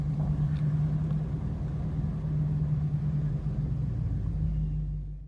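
A Dodge Challenger R/T drives with a steady deep engine rumble and a droning low tone, loud and close throughout with no talk, easing slightly at the end.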